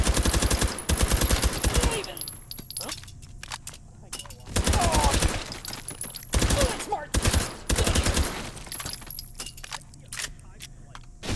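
An MP5 submachine gun fires in the VR shooter H3VR, with several short, rapid bursts of loud gunfire separated by quieter gaps.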